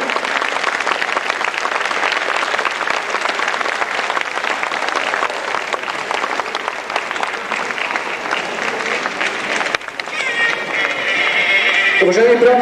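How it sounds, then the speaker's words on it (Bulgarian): A live audience claps steadily to welcome Muay Thai fighters onto the floor at a 2006 demonstration in Varna; dense, sustained applause that fills the room, then gives way near the end to tonal music and other sound. "Ще ви моля с аплодисменти да посрещнем тези бойци по Муай Тай"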